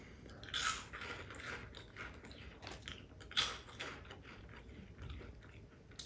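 Close, crisp crunching of caramel-flavored corn snack puffs being chewed, with a few louder bites among steady quieter chomps.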